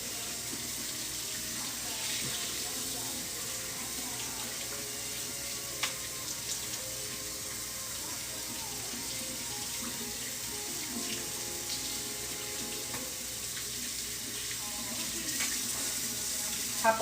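Tap water runs steadily into a sink as tie-dyed fabric is rinsed, a constant hiss and splash with small clinks, continuing alone without talk.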